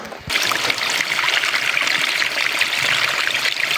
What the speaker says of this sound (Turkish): Kerli çöplü akıyor ama temiz su